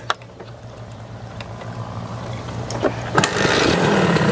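A 2002 Satria motorcycle engine runs after being kick-started, with a low steady idle carrying faint ticking, then a louder, rougher rise in revs near the end.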